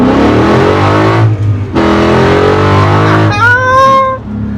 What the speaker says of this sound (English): So it is a custom exhaust with Flowmaster FX on